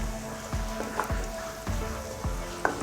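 Onions and spices frying over medium heat for chicken and potato keema, a soft continuous sizzle broken by a few sharp knocks and scrapes of a spoon against the pot.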